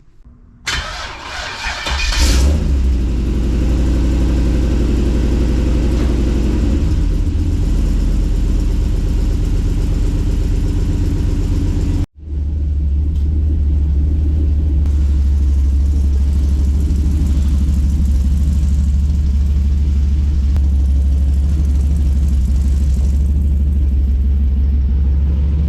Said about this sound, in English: I'm very impressed at how throaty but not obnoxiously loud the truck is